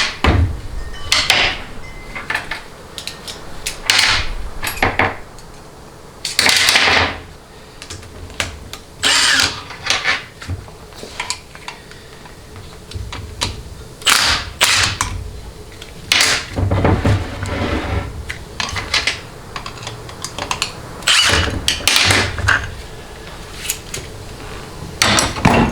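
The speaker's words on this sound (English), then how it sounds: "And I yank this thing off." Pulling the pump off a Ford AOD automatic transmission in a workshop, a long series of sharp metallic knocks, clanks and scrapes at irregular intervals, close up and fairly loud with no talking.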